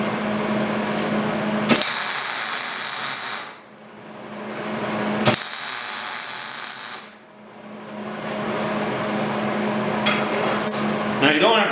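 Tack welding bare, uncoated steel nuts in a shop while fabricating new box sides for a 1956 Mercury pickup: two loud sustained crackling welding bursts of about two seconds each, separated by a low steady hum.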